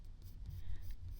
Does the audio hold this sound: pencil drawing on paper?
yes